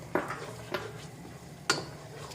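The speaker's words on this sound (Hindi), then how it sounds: "प्याज को फ्राई कर लेंगे इसके साथ थोड़ा 5 मिनट तक" Onions being stirred as they fry in a pan: three distinct scraping clinks of a utensil against the metal pan, spaced irregularly over a low, steady sizzle, close and moderately quiet, no talking.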